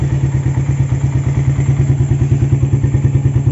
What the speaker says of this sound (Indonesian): Oke, dengarkan bunyi mesinnya